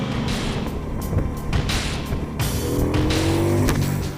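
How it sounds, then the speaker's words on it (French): 2016 Victory Octane 1200 motorcycle engine and exhaust accelerating hard, a loud, close, rising growl that climbs steadily in pitch over a few seconds, with no talk. "les accélérations accompagnées par la sonorité de l'échappement"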